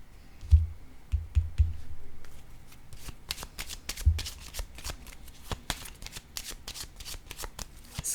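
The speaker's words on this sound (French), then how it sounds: "Je vais juste déposer une carte sur celle-ci." Tarot cards being shuffled and laid down on a table, with soft papery riffles followed by a series of light, sharp taps and flicks as cards are placed, close and quiet.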